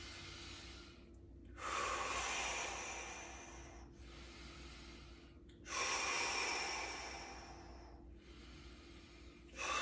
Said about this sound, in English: And just take this energy in by breathing.